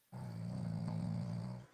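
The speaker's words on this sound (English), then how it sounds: "I hear somebody snoring." A dog snores in one low, rumbling drawn-out breath lasting under two seconds, faint and close, with no talk over it.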